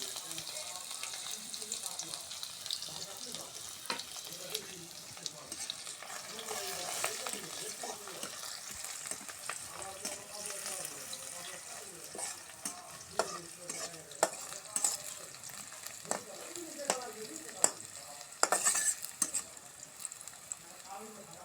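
Whole cumin seeds, garlic and chopped onion fry in a pan. A spoon stirs and scrapes repeatedly over a low, continuous sizzle for about twenty seconds, and a few louder knocks come near the end.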